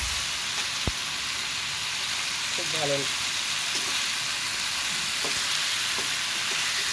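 Loud, continuous sizzling of pumpkin greens frying in oil, close up, with a soft voice speaking briefly over the crackle.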